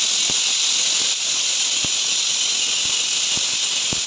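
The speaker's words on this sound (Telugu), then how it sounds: "మీడియం ఫ్లేమ్లో ఒక 2 విజిల్స్ వచ్చేదాకా వెయిట్ చేయాలి" A pressure cooker on a medium flame cooking mint rice, giving a loud, steady high-pitched whistling hiss that runs the whole time, with faint periodic ticks underneath.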